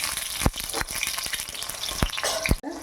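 Small shallots and large onions sauté in oil for a hotel-style egg curry, giving a continuous close frying hiss broken by several sharp scraping stirs from a spatula.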